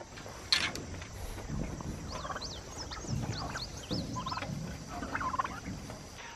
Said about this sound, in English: I like to hear those guys gobble.